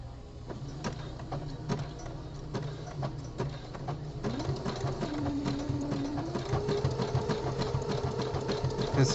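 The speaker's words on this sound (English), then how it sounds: "This top stitching with a decorative stitch uses a lot of thread." Home sewing machine running a decorative top stitch along a boxer brief body panel, a steady motorized hum with rhythmic needle clatter that grows busier and louder in the second half, close by.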